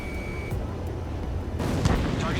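Anti-aircraft fire in Ace Combat 7: Skies Unknown, a steady roar of rapid gunfire and distant booms that swells louder partway through, with no talk.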